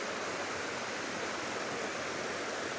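Wide creek rushing beneath a bridge on a mountain trail, a dense, even wash of flowing water that holds steady and fairly loud throughout, with no voices.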